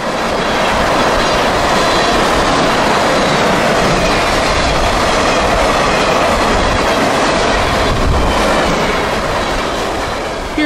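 A train rolls past at close range, a loud continuous roar of wheels and wagons with rhythmic clickety-clack and a touch of wheel squeal, alone without voices.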